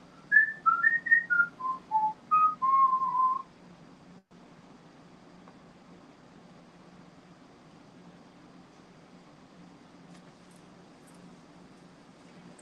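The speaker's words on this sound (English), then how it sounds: "I'll whistle if you'd like to whistle back." A person whistles a short, wavering melody of about a dozen notes in a quiet room. The tune lasts roughly three seconds, followed by a long stretch of near-silence with a low background hum.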